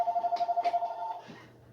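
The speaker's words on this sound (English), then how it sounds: "Your phone's ringing." A telephone rings in a home, a rapid warbling electronic trill repeating about a dozen times in just over a second before fading, fairly close and alone.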